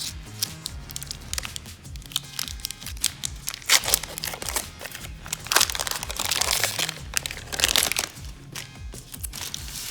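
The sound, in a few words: opening a Model Magic package, crinkling wrapper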